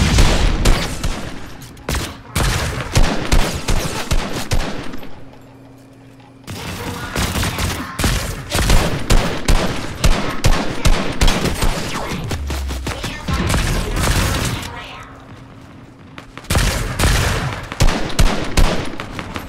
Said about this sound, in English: Getting shot from two directions.